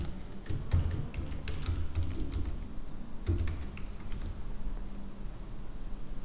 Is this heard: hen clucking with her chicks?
no